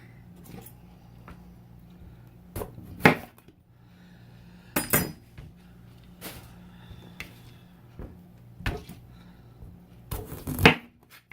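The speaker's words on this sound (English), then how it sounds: "Now I must cut up my peppers." A knife cuts up peppers on a board for a crab spread, making sparse, sharp knocks and clicks at uneven intervals over a low, quiet background, with no speech.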